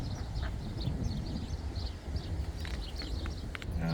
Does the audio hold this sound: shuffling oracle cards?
no